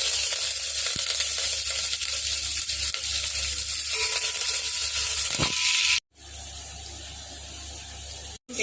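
Curry leaves crackle and sizzle in hot oil for a dal tempering, a continuous close hiss with a couple of faint clicks, then a sudden cut to quieter sizzling.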